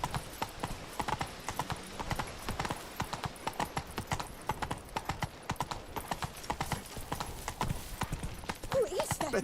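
Rapid rhythmic hoofbeats of a galloping horse in The Witcher 3: Wild Hunt, Blood and Wine expansion, pound continuously and up close over faint game ambience, with a brief voice at the very end.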